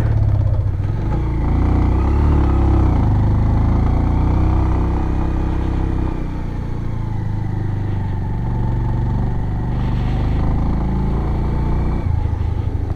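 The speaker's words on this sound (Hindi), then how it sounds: "पर बाइक यहाँ चढ़ नहीं रही क्योंकि" A motorcycle carrying two riders strains up a narrow, tree-lined road toward the Tara Devi temple near Shimla, its engine droning loud and close with a low, labouring rumble and slight shifts in pitch.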